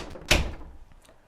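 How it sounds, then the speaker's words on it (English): A household door shut once, a single close thud with a short sharp attack that decays quickly into quiet room tone. "I'm going to shut the door"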